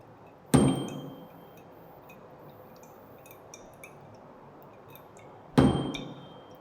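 A tuning fork is struck twice and held over a bottle resonator partly filled with water, each strike a sharp close tap followed by a short fading ring, separated by a few seconds of near quiet.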